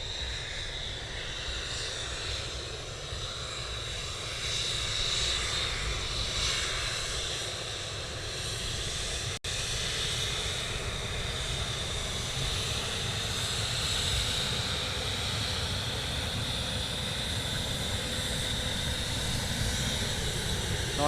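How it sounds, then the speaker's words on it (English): A military jet passes overhead from right to left at RAF Lakenheath, a loud steady engine roar that swells and holds throughout, heard from the ground. "the aircraft's going to be coming from right to left"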